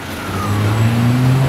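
A Renault Clio approaches on the street, its engine note rising steadily and growing louder as it draws near, with a rumbling tone and faint background traffic.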